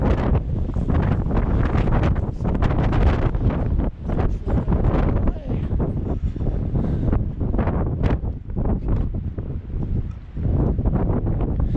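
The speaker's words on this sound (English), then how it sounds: "this is a wind event. This is higher wind than I've had." Strong outdoor wind gusting in a storm, a loud continuous roar buffeting the microphone with surges and brief dips throughout.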